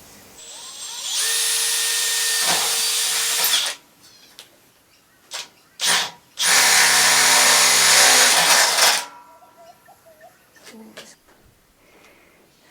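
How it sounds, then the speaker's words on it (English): A power drill bores holes into the body of a Toyota Coaster motorhome for mounting a full-size fridge: two loud sustained bursts of drilling with short spurts between, close up. "drill my holes there to start with"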